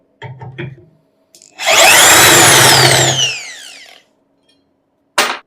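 An impact drill bores holes in short bursts: a few brief taps, then a loud sustained whine of about two seconds that winds down, and a final quick burst after a pause.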